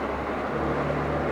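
A 2014 Evinrude E-TEC 65 hp two-stroke outboard idles in neutral, giving a steady, close, continuous low drone with a constant hum and no change in pace through the short stretch.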